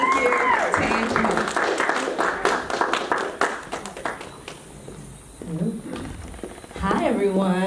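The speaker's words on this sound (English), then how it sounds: "So just give a round of applause." Applause breaks out at an artist talk panel event in Inglewood, Los Angeles, with scattered clapping and cheers mixed with voices and movement, thinning out midway before a speaker begins talking near the end.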